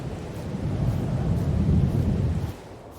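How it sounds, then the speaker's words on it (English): A thunderstorm in the Farming Simulator 22 video game, set in Korpi, Finland, rumbles as a low, heavy roll of thunder with rain that swells for a couple of seconds and then fades off, no voices present. "Let's get rid of this thunderstorm here."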